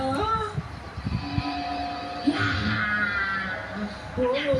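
A cartoon character's voice imitates a cat, letting out several drawn-out, wavering meows between other animated voices and background music.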